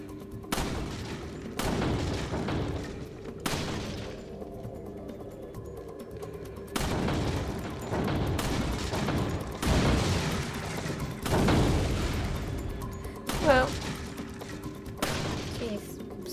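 Bursts of gunfire ring out in a Resident Evil 4 shooting gallery, clustered volleys separated by short pauses, moderately loud, with someone talking intermittently between the shots.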